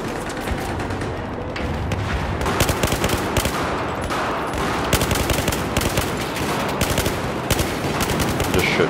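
Sustained automatic gunfire from Battlefield 4 on Xbox One, dense rapid bursts of rifle and machine-gun fire with occasional heavier booms, loud and continuous throughout.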